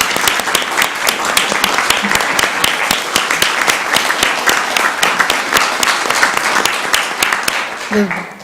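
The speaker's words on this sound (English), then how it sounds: "Let's give them a round of applause for all they do." Sustained applause from a crowd at a city council meeting, dense rapid clapping filling the whole stretch at a steady loud level before tapering off at the end.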